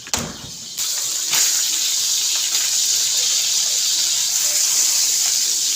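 Milkfish (bangus) frying with tomatoes in a pan, giving a loud, steady sizzling hiss that keeps on without pause after a short burst at the start.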